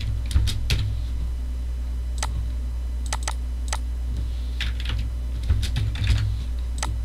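Typing on a computer keyboard while entering router configuration commands: irregular bursts of crisp key clicks, some quick runs and some single presses, close up over a steady low hum.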